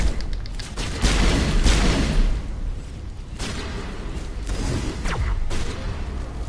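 Gunfire in the video game Mass Effect Legendary: loud, overlapping bursts of shots and heavy booms roll in waves, with sharp cracks near the end and no talking.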